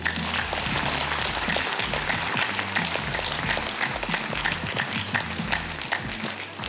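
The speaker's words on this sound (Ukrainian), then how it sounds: "Ваші оплески!" Audience at a charity tour concert in Ukraine breaks into steady, dense applause that carries on without a break, loud and close, with faint voices underneath.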